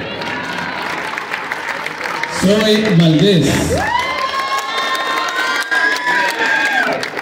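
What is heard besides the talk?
crowd applauding and cheering at a charro arena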